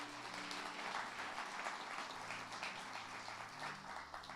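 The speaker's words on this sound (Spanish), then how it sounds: "Den un fuerte aplauso a su Dios" A church congregation gives a strong round of applause to God during a service. The clapping is faint and distant, a dense continuous patter with a low musical hum underneath.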